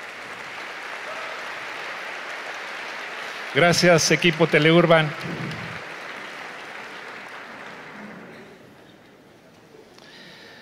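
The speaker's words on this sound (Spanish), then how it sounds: "Pido para ellos un fuerte aplauso también" Moderate applause rises from an audience at a fifth-anniversary company event, continuing under a brief spoken interjection before gradually dying away.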